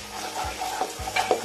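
Green peas tipped into hot frying masala in a pan for a cauliflower and tangra fish curry give a steady close sizzle, with a few soft scraping stirs over a brief moment.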